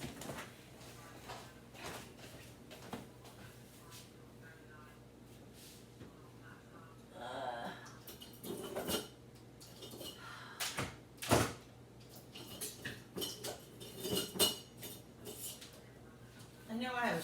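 Someone rummages through kitchen drawers and utensils looking for a whisk, with intermittent clinks, knocks and sliding clatter growing busier after a quiet start, and faint talk mixed in.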